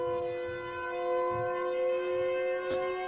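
Siren in the Siren Head video game, a sustained layered mechanical wail holding steady tones, with faint thumping footsteps underneath and a quick rising sweep near the end.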